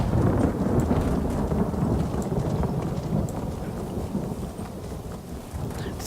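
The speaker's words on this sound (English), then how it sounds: "The thunder is so loud in this game." Heavy rain pours steadily in the Elder Scrolls Online video game while thunder rumbles loudly throughout, fading slightly toward the end.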